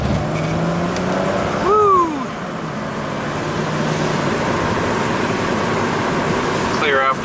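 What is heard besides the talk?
Chrysler Crossfire V6 car driving off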